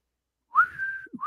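A single whistled note rising into a sustained tone, clear and fairly close, followed by a brief low voice and the start of another whistle.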